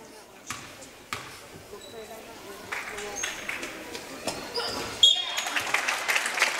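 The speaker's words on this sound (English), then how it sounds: "That one at least hit the rim." A free throw clanks off the rim during a girls' high school basketball game in a gym, with sharp bounces and thuds ringing out under ongoing commentary and crowd noise.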